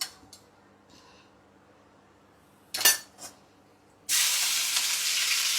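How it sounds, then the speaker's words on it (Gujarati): Dry spices, bay leaf, dried chillies and asafoetida hit hot ghee for tempering, a sudden loud hissing sizzle that holds steady after a few utensil clinks against the pan. "વઘારમાં ખાલી આપણે સૂકા મસાલામાં તમાલપત્ર અને સૂકા મરચા અને હિંગ નાખીને વઘાર કરવાનું છે"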